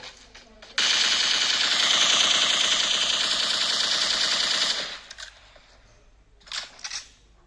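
Automatic weapon fire in PUBG Mobile played on an iPhone 12 Mini: one loud continuous burst of rapid shots lasting about four seconds, followed by quieter clicks and a short second rattle.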